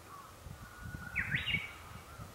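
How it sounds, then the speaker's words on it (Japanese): A single Japanese bush warbler song rises briefly out of a quiet outdoor hush in a farm field, a clear whistled phrase heard at a moderate distance over a soft low rumble. "今日のウグイスは今までマチュピチュって言っとったけど、今日は今宮選手、"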